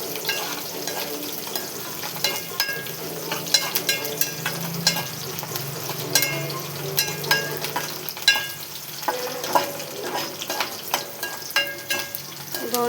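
Ivy gourd (dondakaya) pieces fry in a pan with a steady close sizzle, broken by frequent clinks and scrapes of stirring throughout.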